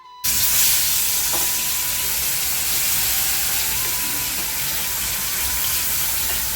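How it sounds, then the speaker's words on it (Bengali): Fish hits hot white oil with a sudden loud burst of sizzling, then keeps frying in a dense, even hiss and crackle close by. "আর এবার সাদা তেল দিয়ে আমি মাছগুলোকে দিয়ে দিব"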